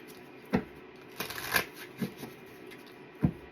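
A Game of Thrones tarot card deck being shuffled, with soft riffling and a few sharp card snaps spaced out over a quiet background, close and fairly faint.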